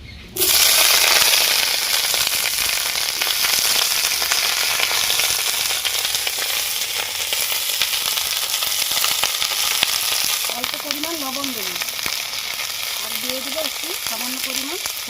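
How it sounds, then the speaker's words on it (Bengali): Cauliflower fries in hot oil in a wok for a dal dish, giving a loud, steady, close sizzle that runs without a break, with a few faint squeaky scrapes near the end. "কড়াটা আমার গরম হয়ে গেছে আমি এবারে একটু তেল দিয়ে দেবো ডালের জন্য যে ফুলকপিটা সে ফুলকপিটাকে ভালো করে আমি ভেজে নেব"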